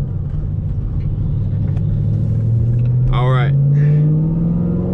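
A 2013 Chevrolet Camaro 1LE fitted with a stage 3 clutch drives along a road in Mexico, its engine a low, steady drone that climbs in pitch as it accelerates, while someone says a few words over it.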